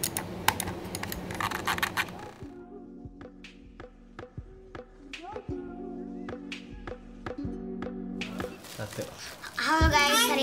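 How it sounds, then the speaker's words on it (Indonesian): Left and right buttons on an ASUS ROG Sica gaming mouse click in a close-up series of sharp, crisp taps with short pauses between them. Talking is heard before and after the clicks. "bunyi klik kanan sama klik kirinya nih"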